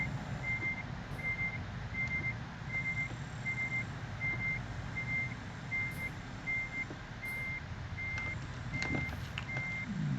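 In Euro Truck Simulator 2, a truck reversing to pick up a trailer gives a regular series of evenly spaced reversing beeps over a low, steady engine rumble.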